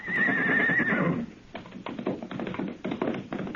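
A horse whinnies loudly and briefly, then its hooves clip-clop away across rough brushy ground in a gully, the quick uneven beats fading as it runs off.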